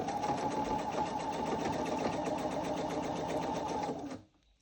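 A sewing machine stitches a Valentine pillow in a fast, steady whir with a rapid needle rhythm, running close and loud for about four seconds before stopping abruptly.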